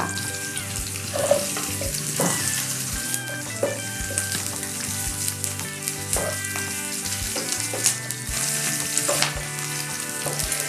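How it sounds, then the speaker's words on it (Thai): Crispy pork belly stir-fried with garlic in a hot wok for a Thai kale-sprout dish, giving a steady loud sizzle broken by repeated spatula scrapes and clacks against the metal, with no talking. "ก็จะใส่หมูกรอบลงไปผัดก่อนค่ะ"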